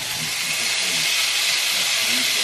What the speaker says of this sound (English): And then saute this until the onions are translucent